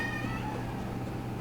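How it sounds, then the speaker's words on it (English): Pet cat Oscar lets out a single drawn-out meow, close and fairly quiet over a low steady hum. "That's my cat Oscar."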